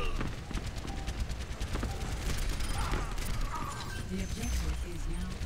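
Rapid bursts of gunfire in a team-based first-person shooter, clattering steadily under someone talking.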